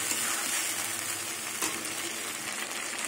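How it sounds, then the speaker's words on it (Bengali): Garlic, bay leaves and spices are sautéed in a pan for a bhetki fish curry, making a dense, even sizzle close by with a faint stir partway through and no speech. "রসুনের কাঁচা গন্ধ যাওয়া অবধি কিছুক্ষণ কষিয়ে নেব।"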